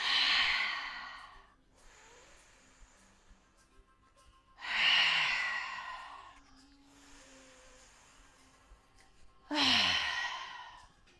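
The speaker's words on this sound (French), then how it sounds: "On fait une respiration du lion, inspire par le nez. Expire par la bouche." Yoga lion's breath: three forceful, breathy open-mouth exhalations at roughly even intervals, each loud and close, with faint quiet nasal inhales in the pauses between.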